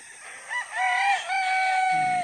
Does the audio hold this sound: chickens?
yes